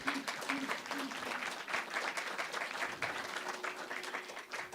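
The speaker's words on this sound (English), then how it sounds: "Round of applause." Applause from an audience at an indoor winter solstice celebration: a continuous, fairly distant patter of many hands clapping, with a faint steady tone underneath.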